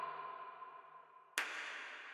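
A soft, spacey tone lingers, then a single rim shot cracks and blooms into a long, airy reverb tail, faint and distant, used as a percussive element in electronic music.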